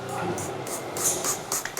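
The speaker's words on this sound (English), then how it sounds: "Iron remover, a spray bottle." Several short hissing sprays of iron remover from a spray bottle onto a Ford 6.7 Powerstroke truck, pumped in quick bursts close by while someone talks over them.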